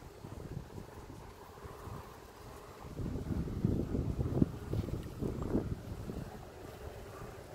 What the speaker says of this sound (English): Sorry, it's windy.